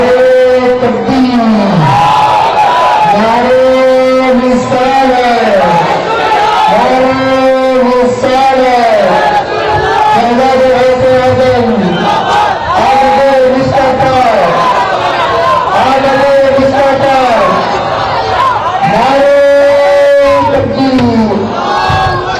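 A large crowd chants slogans in loud, rhythmic unison, with call-and-response waves of voices rising and falling repeatedly throughout, filling the space with continuous massed shouting.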